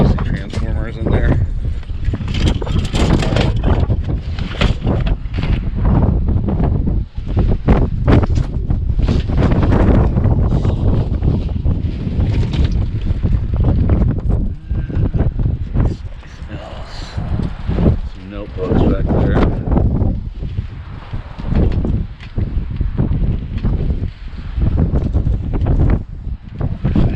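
Strong, gusty wind buffets the microphone on a windy day outdoors, with loud roaring bursts rising and falling over several seconds while a person talks through it.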